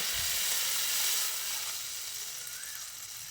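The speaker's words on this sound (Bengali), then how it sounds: "এবার বিটরুট আর আলুটা যাতে সেদ্ধ হয় সেই জন্য পরিমাণ মতো জল দিয়ে দিচ্ছি।" Water is poured into hot masala frying with beetroot and potato, raising a loud hissing sizzle that slowly fades to a softer simmer.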